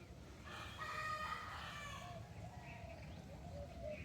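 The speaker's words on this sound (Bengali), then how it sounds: "কত কত পাখি যে ডাকতেছে দেখেন শুনতে পান কি না কত পাখি কত ধরনের পাখি ভ্যারাইটিস পাখি" Birds call in a village setting, a rooster crowing and other fowl clucking at a distance, faint under a constant background rumble.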